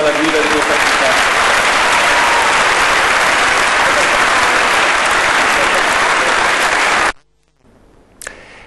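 A crowd gives a loud, sustained round of applause for the new mayor. The clapping is dense and continuous for about seven seconds, then cuts off abruptly into near silence.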